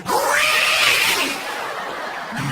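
A comedian on stage gives a vocal imitation of a yowling cat, a loud rising and falling wail that lasts about two seconds and then fades into a short tail.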